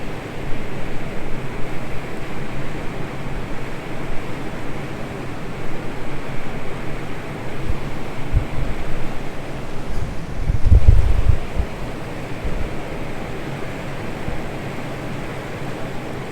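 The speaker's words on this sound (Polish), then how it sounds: "A woda wypływa tutaj, z dołu." Steady, broad roar of water rushing out below the Pilchowice dam, loud and continuous, with a brief heavier surge partway through and no voices.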